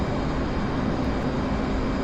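A jet aircraft engine in the DCS flight simulator roars in flight, a dense, steady broadband rumble that stays loud and even from start to finish with no voices.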